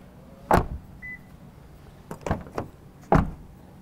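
Honda HR-V car door handled and opened, with a few sharp mechanical clunks and latch thuds spaced apart, close and fairly loud.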